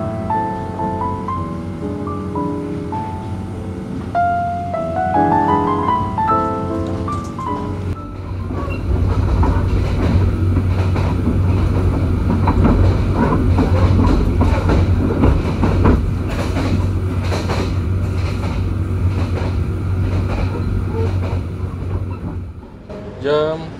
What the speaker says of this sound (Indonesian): Keretanya ini agak shaky-shaky ya, lumayan kerasa bantingannya